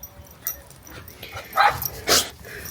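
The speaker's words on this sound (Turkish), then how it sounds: "Havlamayın." Small dogs bark a few short, sharp yips in a home with a garden, close and loud, spaced irregularly across a brief moment with quiet gaps between them.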